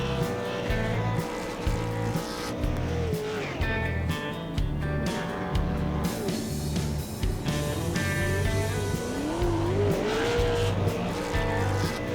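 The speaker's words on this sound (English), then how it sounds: "As we watch Yarborough do his victory spin out." A late model race car spins out in a victory celebration at Lucas Oil Raceway, its engine roaring loud and steady throughout with rising tire squeal toward the end.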